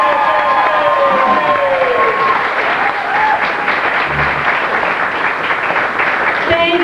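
An audience applauds loudly and continuously after a performer is introduced on stage, a dense wash of clapping with a few cheers and voices mixed in throughout.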